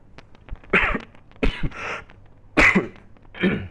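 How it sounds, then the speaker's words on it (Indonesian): Several loud, close coughs come in separate bursts with short pauses between them, during a programming tutorial. "batuk saya."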